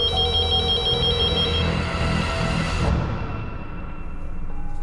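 A telephone rings loudly and continuously, its repeating electronic ring tone filling the whole stretch before dropping lower toward the end.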